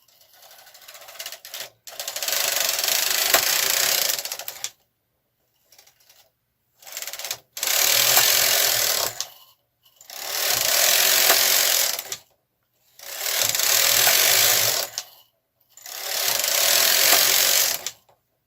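A KH 230 knitting machine knits rows on a long collar, its carriage sweeping across in five loud, steady passes of about two seconds each, separated by short pauses and small clicks, with no one talking.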